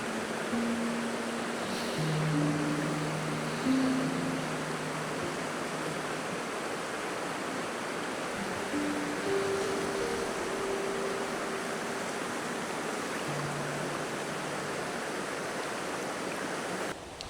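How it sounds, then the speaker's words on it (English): A small river flowing steadily, its broad even rush of water continuing without a break at a moderate, distant level, with faint tonal traces in the background and no talking. "I've got a nice little river scene behind me"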